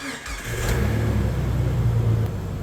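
The engine of a 25-year-old Jeep TJ runs nearby with a smooth, steady, low drone that holds even throughout.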